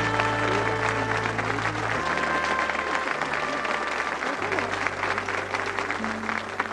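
A studio audience at a game show applauds the contestants, steady loud clapping that continues throughout with a low music bed underneath.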